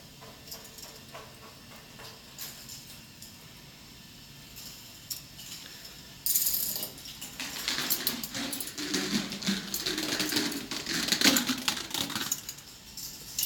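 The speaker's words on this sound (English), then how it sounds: "All the balls end up in this large trough at the bottom of the machine. They're picked up by a short chain lift" A K'Nex ball machine runs with plastic balls clattering and rolling into a large trough and a short chain lift ticking along, starting as faint scattered clicks and growing into a louder, busier rattle partway through.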